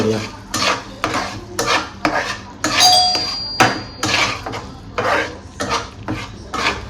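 Spoon repeatedly scraping and clinking in a pan as crushed kasuri methi is mixed into paneer, with rhythmic stirring strokes and metallic taps close up, no speech.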